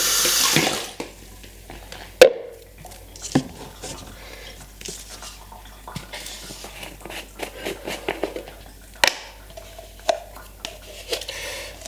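Liquid pours into a jug, X-Tow film developer and water in equal measure, with a splashing, running trickle, close and fairly quiet, broken by a few sharp knocks and clinks.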